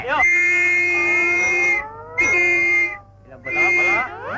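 A police constable's whistle gives shrill, wavering tones in three long bursts with short gaps, loud and close, inside a police station.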